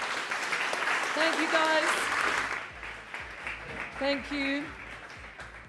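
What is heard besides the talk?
audience applause after panel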